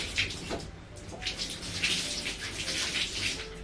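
Running water splashes and patters over a dog's water-repellent fur during a bath, a steady close wash of spray with brief louder gushes and no talking.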